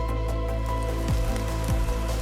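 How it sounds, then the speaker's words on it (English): Steady rain falls on a surface at night, a dense, continuous patter with a few louder drips standing out, close and even throughout. "That night, the rain never stopped."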